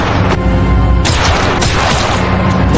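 Loud gunfire in a war film as captors shoot prisoners at random, heavy booming blasts and bursts packed densely across the moment with no talking.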